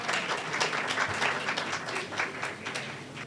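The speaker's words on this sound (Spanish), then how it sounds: "Un aplauso para él." An audience at a medical course lecture on bone marrow transplantation gives a short round of applause for the speaker, a moderately quiet, steady patter of clapping from a modest crowd.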